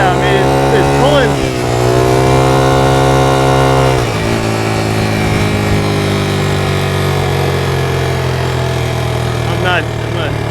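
A 1982 Honda XL80S motorcycle engine revving loud and close, pitch climbing and dropping as it shifts up through the gears, with someone talking over the buzzing engine.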